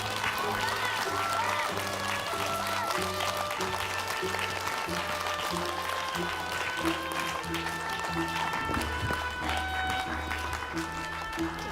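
A theatre audience applauds young actors after a stage performance of Gulliver's Travels, sustained dense clapping throughout over a backdrop of music.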